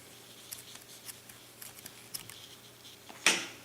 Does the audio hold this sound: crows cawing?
no